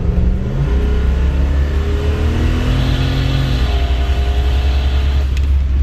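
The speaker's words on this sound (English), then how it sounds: "I'm going to tip into the throttle a bit" An LS-swapped turbocharged Volvo 240 pulls under throttle, its engine note climbing steadily in pitch with a constant loud drone and road rumble throughout, with no voices.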